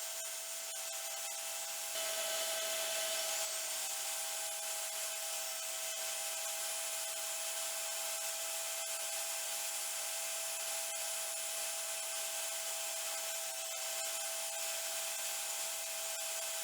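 A power saw cuts wood supports in a workshop, a loud sustained whining tone with slight pitch shifts as the blade moves through the stock, steady from start to finish.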